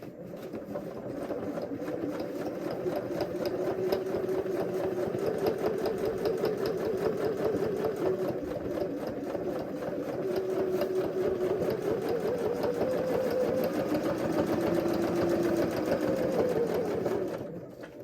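A home sewing machine stitches fabric in one steady, continuous run of fast, even mechanical whirring, close and unbroken for about seventeen seconds with no talking.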